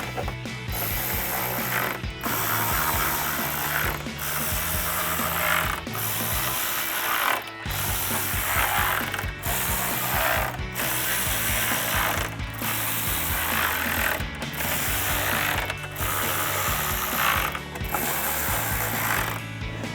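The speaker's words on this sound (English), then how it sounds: "grab your 10mm socket and tighten all of those down" A hand ratchet with a 10mm socket tightens bolts on a 2019-2024 RAM 1500 headlight, giving steady close clicking in repeated strokes separated by short regular pauses, with no talking.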